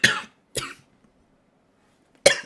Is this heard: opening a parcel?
no